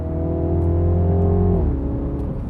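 A MINI Clubman Cooper S (F54, stage 1 tune) engine revs loud and close with strong harmonic drone, then drops off with crackly exhaust pops at the end, no talking.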